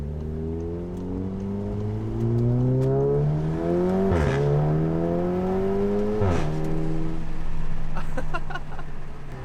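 Volkswagen Golf R driving with its Sound Actor disabled, pure engine and exhaust note: steady loud revving climbs through the gears, with two sharp shift drops and a more level cruise at the end.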